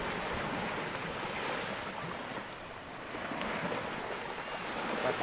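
Continuous rushing surf of sea waves on a shore, with wind noise across the microphone, swelling and easing slightly; no voices.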